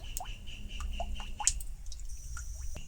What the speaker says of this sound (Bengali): তেল দিলাম।